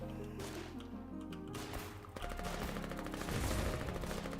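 Gunfire in a video game rings out in rapid bursts layered over steady tonal game music, moderately loud and continuous, with the shooting growing denser toward the end.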